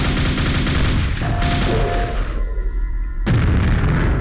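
Rapid, loud bursts of a nail gun fired at an ogre in a fast-paced video game, dense overlapping booms and explosive impacts crowding the whole moment, with no pauses between shots.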